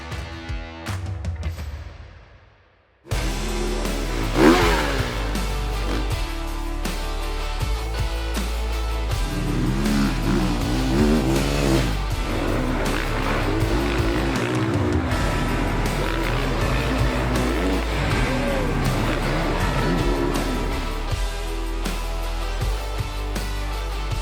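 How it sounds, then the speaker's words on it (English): A 2027 Honda CRF450R motocross motorcycle rides the Arco di Trento Grand Prix track, its engine note rising and falling through gear changes and throttle blips for over twenty seconds after a brief quiet start. "I am here in Arco di Trento on the Motocross GP track with the brand new Honda CRF450R model year 2027"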